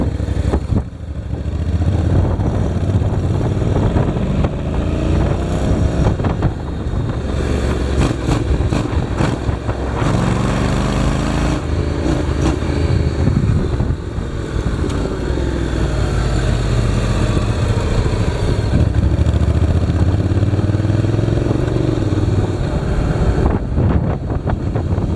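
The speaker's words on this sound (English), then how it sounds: "listen to the tailpipe and see what changes I've made" A motorcycle exhaust runs through a homemade steel-reinforced epoxy quiet core muffler, giving a steady, loud, rushing engine drone for the whole stretch, with wind buffeting the microphone and slight shifts in pitch as the bike rides.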